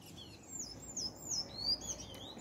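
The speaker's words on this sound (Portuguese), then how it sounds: "Os passarinhos." Small birds chirp in a garden of orchids, a quick series of high, sliding tweets repeating close by against soft background noise.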